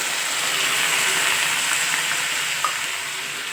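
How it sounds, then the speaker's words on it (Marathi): Water hits a hot pan of hotel-style mushroom masala gravy, producing a loud, continuous hiss and sizzle close up, with faint stirring and no voices. "तर आता आपण यात टाकून घेऊ थोडस पाणी"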